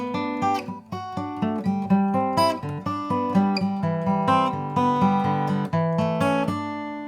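Bluegrass picking of linked chord arpeggios over the tune Blackberry Blossom, a steady run of plucked notes with sharp attacks in an even rhythm, close and moderately loud, with no talking.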